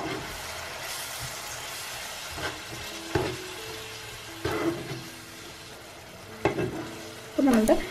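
Raisin pickle sizzles gently in a pan with vinegar added, giving a low steady hiss, with occasional stirring scrapes and clinks of a spoon, the bubbling growing a little louder toward the end, without voices.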